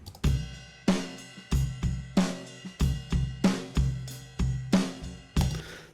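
A full music mix run through a Soundtoys Neve preamp emulation built on germanium transistors, fuzz-like distortion colouring a steady punchy beat with repeated strong hits about every half second, loud and continuous without voices.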